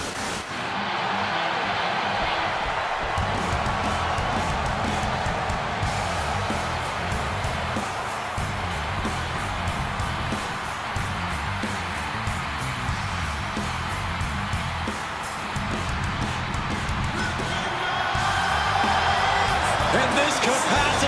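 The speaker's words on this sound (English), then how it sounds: "this capacity crowd just exploded" A capacity arena crowd in the WWE 2K26 wrestling game cheers and roars steadily throughout, a dense sustained wall of crowd noise that swells near the end, with a commentator talking over it.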